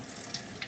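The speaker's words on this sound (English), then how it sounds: "I'm actually going to get some warm water on my hands" Warm tap water runs steadily over hands at a kitchen sink, a continuous soft hiss with a couple of faint splashy accents.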